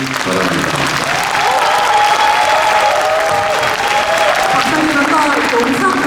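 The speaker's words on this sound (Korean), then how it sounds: "양문석에게 아낌없는 박수를 보내주시기 바랍니다" Audience applause at a book concert, loud, continuous clapping from a sizable crowd filling the room while a voice carries on over it.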